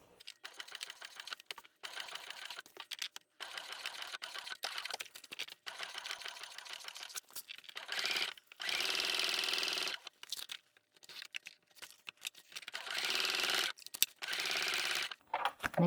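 A sewing machine runs in bursts, stitching the seams of a waterproof canvas East West bag gusset-side down, with short pauses between runs and a couple of longer steady stretches.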